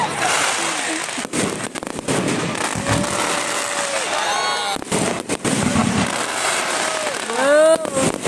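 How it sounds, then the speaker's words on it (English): Fireworks burst at close range at a nighttime bonfire event, a continuous loud crackle of explosions and sharp bangs with whistling rises, while people exclaim and talk nearby. "I never see fireworks so close like this."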